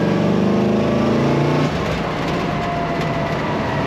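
A 1934 Plymouth Coupe street rod with a dual carburetor setup pulls hard under throttle, a loud, dense engine roar that drops to a lower, steadier tone about halfway through.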